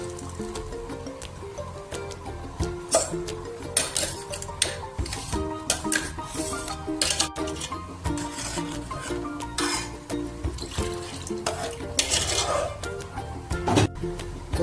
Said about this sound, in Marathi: तर आमी भितर मिक्स करता वाटण.